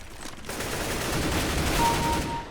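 Rapid gunfire from a video game deathmatch, a continuous dense fusillade of automatic shots that fills the whole moment loudly, with no talking over it.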